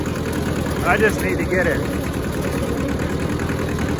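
A free, rusty Hinomoto tractor engine runs with a steady low rumble throughout, with someone talking briefly over it.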